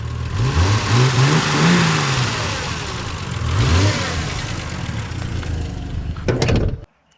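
A car engine is revved several times in a garage-style setting, each blip rising and falling in pitch, loud and close, with a steady idling rumble between revs before it cuts off abruptly.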